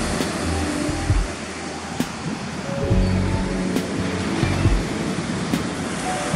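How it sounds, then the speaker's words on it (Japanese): Ocean waves break at a surf point in near-windless conditions, with knee-high sets dumping. A loud, continuous rushing wash surges and swells up close, and no voices are heard. "いい感じのうねりが入ってますが、ちょっと伸びて、ミドル付近ではブレイクしてますね。"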